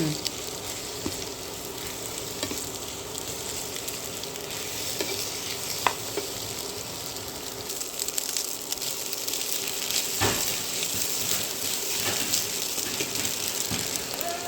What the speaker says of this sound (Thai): ใส่ข้าวหนึ่งถ้วย ผัดข้าวกับไข่ให้เข้ากัน